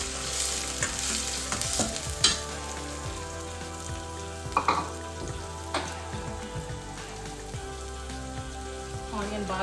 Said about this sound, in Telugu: తర్వాత ఆనియన్ వేసుకుందాం.